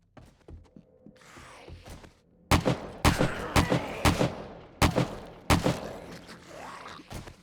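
Gunfire in the 7 Days to Die zombie survival game (Alpha 16): a string of loud, sharp shots at irregular spacing, each with a short thudding tail, over a quiet background with a few softer knocks at the start.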